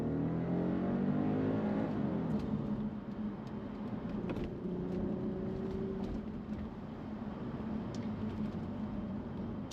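Bentley Continental GT pulling hard, a steady deep engine drone from inside the cabin that rises gradually in pitch as it gathers speed, with road and wind noise beneath and no talking.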